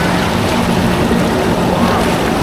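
Surf on water churns as a dense, steady wash of broadband noise with a low engine-like hum beneath, continuous and fairly loud.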